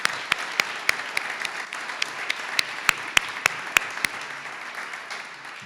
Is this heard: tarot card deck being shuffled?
no